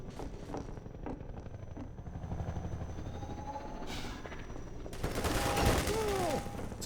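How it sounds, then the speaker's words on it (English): Helicopter attack in the PC game Half-Life 2: a continuous rotor drone and engine rumble with bursts of rapid gunfire, rising to a loud crackling barrage near the end. "Still got that helicopter to deal with."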